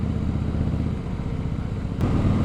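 A Harley-Davidson Fat Boy motorcycle fitted with a Vance & Hines Pro Pipe exhaust and a restrictive baffle idles with a steady, fairly quiet low rumble, close by and alone.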